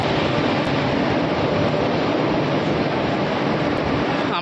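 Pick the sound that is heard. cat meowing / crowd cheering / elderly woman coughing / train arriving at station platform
train arriving at station platform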